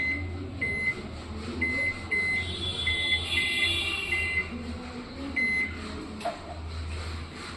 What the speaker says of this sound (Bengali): এবার আমি হাই পাওয়ারে দিচ্ছি আট মিনিট